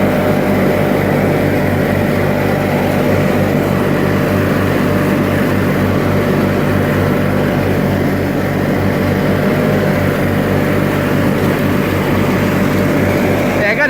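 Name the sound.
1986 John Deere 318 lawn tractor running while mowing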